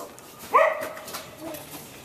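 A single sharp dog bark rings out, followed by a softer whimpering tail, fairly close and alone.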